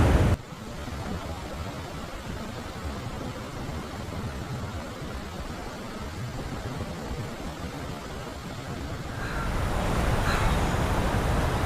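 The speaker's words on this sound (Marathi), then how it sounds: "समुद्राच्या पांढरा शुभ्र फेसाळत्या लाटा बघतो आहोत, भणभणणारा वारा अनुभवतोय आणि समुद्राची गाज ऐकतोय" Sea waves break on a beach at Murud on the Konkan coast while wind blows, a steady loud roar of surf and wind that swells slightly near the end, with no voices.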